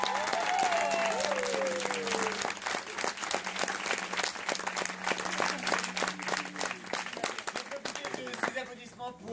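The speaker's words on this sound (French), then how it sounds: "Un tonnerre d'applaudissements pour notre régisseur" A theatre audience applauds steadily, the dense clapping loud and continuous, with a voice speaking over it at the start.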